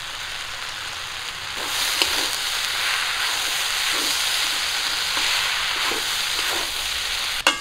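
A paste of ground ginger, cumin, garlic and mustard fries in a pan for a home-style fish curry, giving a loud, steady close-up sizzle with occasional stirring scrapes and no talk.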